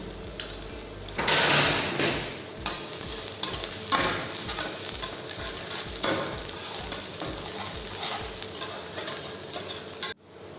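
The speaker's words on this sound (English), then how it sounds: "Now add roughly cut garlic, 1 tablespoon, and chopped ginger, 1 tablespoon." Chopped garlic and ginger fry in hot oil for pad thai, a steady close sizzle with repeated scraping stirs of a utensil against the pan and a light clink of cookware near the end.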